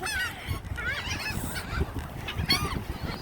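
Geese and other fowl at a bird park honk repeatedly in short, close, fairly loud calls that overlap one another, over a low background rumble.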